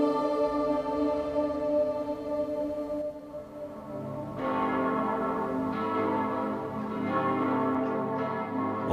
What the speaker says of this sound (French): les cloches de Santiago se mettaient à sonner à toute volée pour avertir d'une attaque des troupes musulmanes